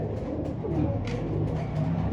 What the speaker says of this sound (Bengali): এই জন্য ডাকটা দেখাই দিলাম আপনাদের দেখেন কী পরিমাণ ডাক দর্শক কবুতরের